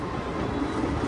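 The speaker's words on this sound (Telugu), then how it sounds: "ట్రైన్ వచ్చేసి కృష్ణా రివర్ మీద కూడా వెళ్తుంది బ్రిడ్జి పైన." A train rolls across a bridge over the Krishna river with a steady, dense rumble and rattle of wagons. The noise is continuous and loud and fills the whole moment with no voices.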